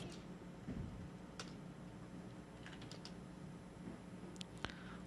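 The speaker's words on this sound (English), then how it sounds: "I'm typing DKKT." Keys are tapped on a computer keyboard in scattered quick clicks and short bursts over a low, constant room hum, close and fairly quiet, with no talking.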